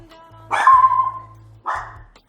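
A dog barks twice, loud and close, a sharp yelping bark followed a second later by a shorter one, with a low steady hum underneath and no talking.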